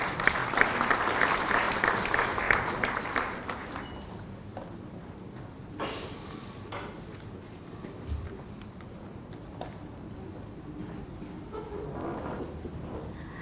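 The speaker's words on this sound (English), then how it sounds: "Can we please give her a round of applause?" An audience at a conference opening ceremony in Nigeria claps loudly for a few seconds, then the applause quickly dies away into quiet room noise with a few faint bumps.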